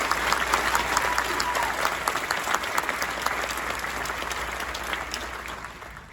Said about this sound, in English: please join me in applauding the accomplished members of Charlotte Christian School's class of 2024